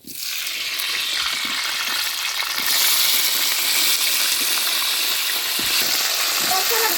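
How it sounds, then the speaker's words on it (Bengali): Cauliflower florets fry in hot oil in a pan, giving a loud, steady sizzle that starts abruptly and intensifies after a few seconds, with occasional light clinks. "মাছের জন্য বেজে নিব ফুলকপি"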